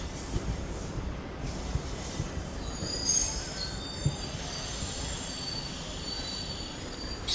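India's first hydrogen train running on the main line out of Sonipat Junction, its wheels squealing steadily on the rails with a continuous rolling rumble, sustained and moderately loud, with no voices.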